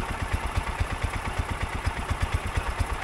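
A Wheel Horse garden tractor that sat for years runs its mower engine with a steady, rapid low chugging pulse, close and continuous with no talking.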